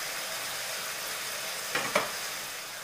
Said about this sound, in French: je vais vraiment le laisser rissoler bien comme il faut, caraméliser avec le miel et la sauce soja